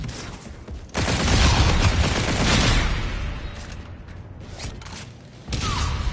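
Rapid bursts of hip-fired gunfire from the Call of Duty: Infinite Warfare video game, dense and loud for several seconds, then dropping to quieter game sounds before another burst near the end.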